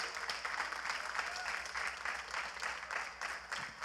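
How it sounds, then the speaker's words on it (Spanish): Church congregation during Holy Week giving a strong round of applause, steady rhythmic clapping from many hands that continues throughout at moderate level. "Den un fuerte aplauso"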